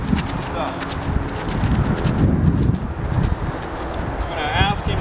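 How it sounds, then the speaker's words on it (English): Hooves of a Friesian gelding clip-clop steadily at a walk under a rider, a close and even rhythm over continuous low background noise. "I'm walking this horse out on a loose rein"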